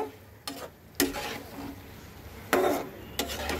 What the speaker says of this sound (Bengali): এবার আমি একটু নাড়িয়ে দেব।